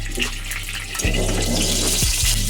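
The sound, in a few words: fenugreek seeds frying in oil in a nonstick wok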